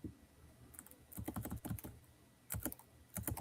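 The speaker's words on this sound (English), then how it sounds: "Sounds like you're typing now" Keys clack on a computer keyboard in quiet, irregular bursts of quick strokes, with brief pauses between runs and no one speaking.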